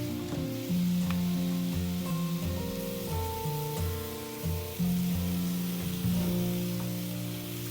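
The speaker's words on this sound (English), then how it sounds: "you're gonna move the mushrooms to the skillet with the onions and broth" Mushrooms cooking in a skillet with onions and broth give a steady, close sizzle and bubbling that runs without pause, with no voices over it.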